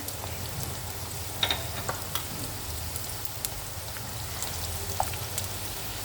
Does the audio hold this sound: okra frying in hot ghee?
yes